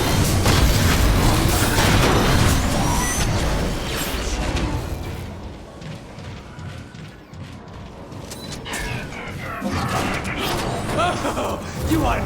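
Grenade blasts and heavy booming bursts rumble through a battle in the video game Transformers: War for Cybertron, loud and dense at first, easing, then swelling again amid mechanical clanks and creaks.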